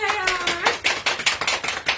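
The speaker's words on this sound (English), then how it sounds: "Give him applause." A few people clap close to the microphone in a quick, uneven burst of applause on a talk show, briefly overlapping a voice at the start.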